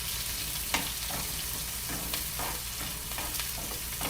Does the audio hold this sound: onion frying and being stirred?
yes